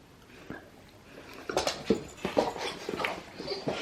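A small, excited dog whimpers and pants close by, giving high whiny yelps and quick breaths that grow busier and more frantic over a few seconds.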